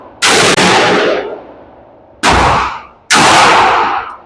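Three loud, close gunshots ring out at an outdoor shooting range, each a sharp crack with a fading echo tail, spaced irregularly over a few seconds.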